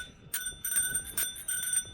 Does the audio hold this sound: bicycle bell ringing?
yes